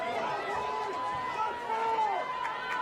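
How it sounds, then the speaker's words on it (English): A home crowd roars at a Milford high school football game against Natick during the first quarter, cheering its defense with a steady, broad wash of noise and a few rising calls, while people talk through it. "this Milford crowd continuing to get larger and larger now through this first quarter, getting loud for their defense"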